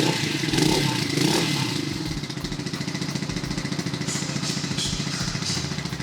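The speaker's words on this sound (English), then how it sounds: "as I hit the starter, I'm just going to turn the throttle just a little bit" Warm SG250 motorcycle engine starting and settling into a steady idle, a close, loud throbbing rumble with a rapid even beat and some mechanical clatter, briefly livelier at first before evening out.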